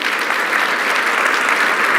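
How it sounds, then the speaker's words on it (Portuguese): An audience bursts into steady, dense applause, many hands clapping continuously and close, with no voices over it, at a live talk event. "Eu quero uma salva de palmas para ele."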